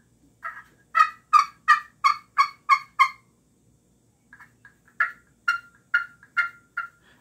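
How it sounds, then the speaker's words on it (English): A glass friction turkey call produces two series of sharp, evenly paced yelps, close and clear, with a brief pause between the runs and no talking. "So let's give a little try here with this glass call."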